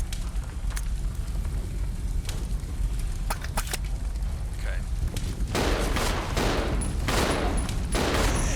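Shotgun and gunfire in the video game Resident Evil 0, with scattered sharp shots over steady rain-like game ambience that grows busier with rapid bursts near the end.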